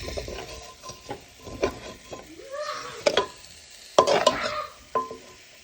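Samosa filling with chopped coriander is stirred in a pan, a series of close scraping and tapping strokes of a spoon against metal over a soft sizzle, with faint speech in the background.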